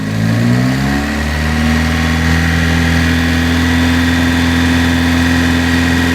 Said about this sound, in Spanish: Y ahora aceleramos